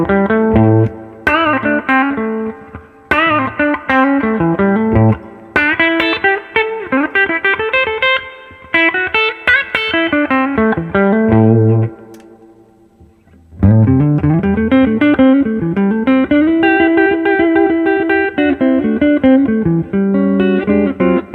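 Gibson Les Paul Classic 1960 reissue electric guitar played through a Carbon Copy delay and reverb, a series of ringing chords and melodic phrases with audible echo tails, a brief pause near the middle, then sustained notes resuming loudly.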